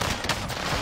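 Rapid gunfire in Warzone, a dense, loud burst of overlapping shots filling a brief moment with no talk.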